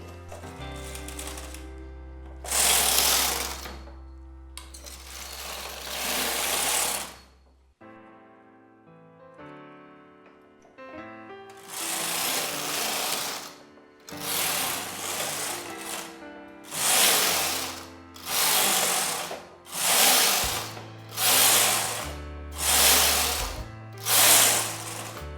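A domestic knitting machine set to tension 1 knits rows, each pass a loud mechanical carriage sweep with clattering needles, repeating in regular strokes separated by short pauses and quieter clicks.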